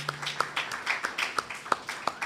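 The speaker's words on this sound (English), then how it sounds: "Everybody give my Baba a little clap, please." A small audience at a Saptaha Bhagwat Yagna gives a light, scattered clap: about a dozen distinct, uneven hand claps, fairly quiet.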